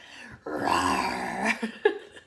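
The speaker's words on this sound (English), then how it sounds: "It's my dog. I think he's worried that I'm growling." A dog growls low and then lets out a few whimpers and yips up close, with nobody talking.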